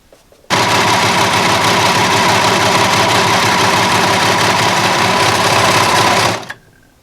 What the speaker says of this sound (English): So we're just going to go across the one end with the serger, and then we're going to serge down the side of it.